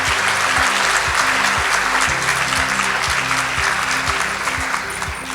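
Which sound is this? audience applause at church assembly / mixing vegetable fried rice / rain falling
audience applause at church assembly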